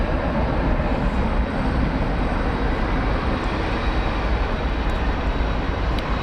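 UPS cargo jet at DFW Airport, a loud, dense, continuous engine roar that stays close and steady throughout.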